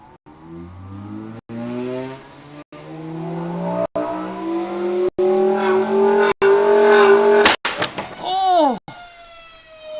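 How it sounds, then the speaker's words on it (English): A loud jet engine whine climbs steadily in pitch as it powers up, broken by several abrupt brief cutouts, then ends in swooping, wavering tones. "Powering up engines, starting jet."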